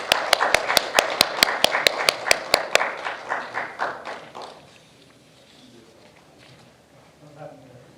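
Audience applause at the opening ceremony of a formal conference keynote, heard as a run of sharp, evenly spaced claps that fade out after about three seconds, followed by quiet room tone and a voice beginning to speak.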